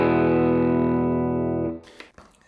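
A single sustained electric guitar chord through a Universal Audio Dream '65 emulation of a 1965 Fender Deluxe Reverb amp rings out with a warm tone and reverb, then is cut off, followed by brief soft handling noises.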